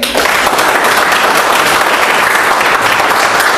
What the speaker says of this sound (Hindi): तो सेलिब्रेट करो, ताली बजाओ अपने लिए